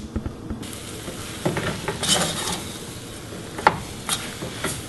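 Red beans with brown sugar and a little salt are stirred in a pot over heat. There is intermittent scraping with a few sharp utensil clinks over a low background sizzle.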